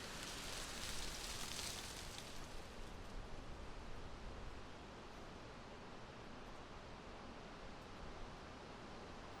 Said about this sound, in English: As the rain falls,